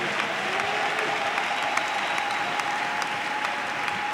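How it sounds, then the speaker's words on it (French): A church congregation applauds steadily throughout, dense continuous clapping at even loudness with a faint sustained tone and scattered louder claps, no clear talking. "Acclame très bien le Seigneur."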